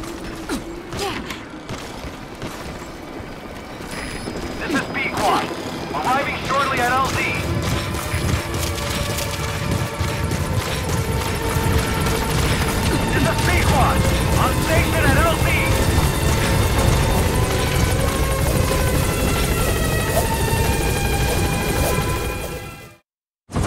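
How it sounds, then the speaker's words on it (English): A support helicopter arrives in Metal Gear Solid V: The Phantom Pain, its rotor thrum building steadily amid mechanical clanks and creaks, loud and sustained before cutting off abruptly at the end. "Support helicopter requested."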